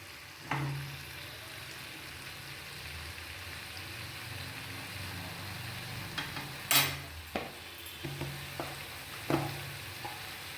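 Corn frying with tomato in a pan for a chatpata corn recipe, a steady low sizzle broken by scattered scraping stir strokes, with a louder burst of clatter partway through.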